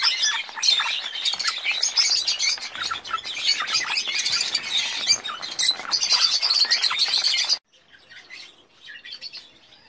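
Pet parrots in a home aviary chirp and squawk in a dense, busy chorus of bright calls, then drop abruptly to a few quieter scattered chirps near the end.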